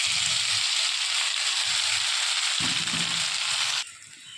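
Potol paste dropped into hot oil for potol vorta, a loud bright sizzle that flares hard, holds for several seconds with some stirring, then suddenly drops away quieter.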